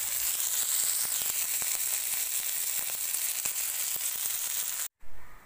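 Fish fries in a hot pan with a steady, close sizzle and spitting crackles that run throughout, broken by a short pause near the end; no one speaks.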